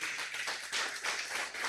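A church congregation claps together during a sermon, a dense, steady wash of many hands applauding at moderate volume for a short stretch.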